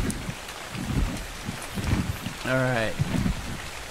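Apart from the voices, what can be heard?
rain in the video game ARK Survival Evolved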